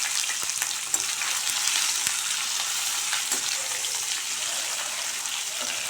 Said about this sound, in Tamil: அடுப்பை மீடியமில் வச்சு இந்த எண்ணெயிலேயே இந்த உருளைக்கிழங்கு வதங்கட்டும்